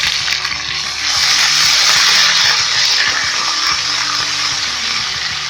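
Loud, steady hiss of garlic-ginger paste frying in a hot pan, with a low hum underneath, close by and continuous.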